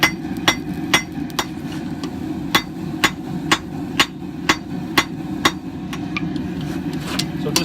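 Hammer blows drawing out a point on a 1095 steel blade at the forge, a steady series of sharp, ringing metallic strikes roughly every half second, close and loud over a constant low roar of background noise.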